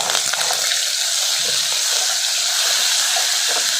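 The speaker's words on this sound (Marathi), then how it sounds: "डाळ तडक्यासाठी 1 चमचे जिरे टाकायचे आहेत. थोडासा कढीपत्ता घालायचा आहे. 1 चमचा आलं लसूणची पेस्ट घालायची आहे." Cumin, curry leaves and ginger-garlic paste fry in hot ghee for dal tadka, making a loud, dense, continuous close sizzle and hiss that stays level throughout without any talking.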